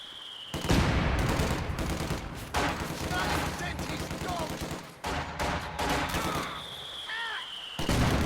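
Mortar barrage hammering infantry standing in green cover in a strategy video game, a dense run of loud explosions and rapid gunfire bursts rolling continuously, with a commentator talking over the din.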